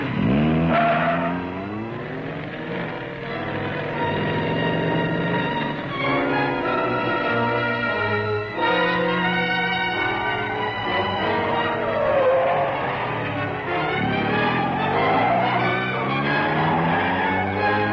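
Car chase from the movie The Fast and the Furious: a car drives hard and skids, with tire squeals and engine noise mixed into a loud, dense, continuous soundtrack.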